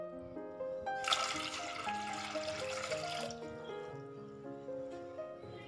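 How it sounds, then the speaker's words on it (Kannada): About two glasses of water are poured into a pot for boiling to make north Karnataka jowar ambali, a short splashing gush lasting a couple of seconds against a quiet background. "ನಾನೀಗ ಒಂದು ಪಾತ್ರೆಗೆ ಎರಡು ಗ್ಲಾಸಷ್ಟು ನೀರನ್ನು ಕುದಿಯೋಕ್ಕಿಡ್ತಾ ಇದ್ದೀನಿ."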